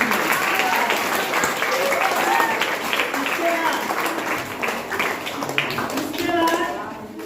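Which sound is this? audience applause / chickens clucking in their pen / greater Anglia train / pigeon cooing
audience applause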